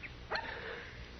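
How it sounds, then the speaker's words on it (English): A small dog out in a street, heard in an old radio drama, gives a short yip-like bark over a steady background hiss, close and brief. "Hey, look at that little old dog out in the street there."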